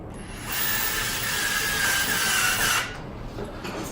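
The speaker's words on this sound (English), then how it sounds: "And then you just want to fasten that screw again." A screw is fastened during assembly of a NASH CoolSmart pedestal fan, giving a close, continuous whirring, ratcheting sound from about half a second to nearly three seconds, softer before and after.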